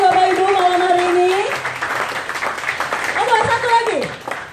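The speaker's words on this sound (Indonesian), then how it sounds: "saya minta berikan tepuk tangan untuk 3 narasumber kita, Bapak Ibu, malam hari ini." An audience at an evening leaders' talk event applauds three guest speakers with a short burst of scattered clapping. A host's voice comes before and after the applause.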